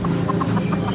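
A hen clucks in a short series of soft, quick calls at close range, clear and without any talking over it.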